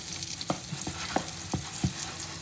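A thick mixture is stirred in a pan as it firms into a dough, with repeated thudding scrapes of the spoon every fraction of a second over a low background sizzle, close and without speech.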